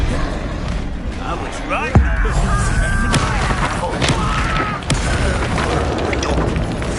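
Confringo blasting spells go off in Hogwarts Legacy, a deep boom with a sharp thud near two seconds and further bursts amid busy game effects, with a voice speaking over the combat.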